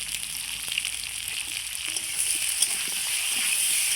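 Potatoes fry in oil in a pan with salt and turmeric, giving a steady, bright sizzle with scattered pops that swells slightly toward the end, with no talk.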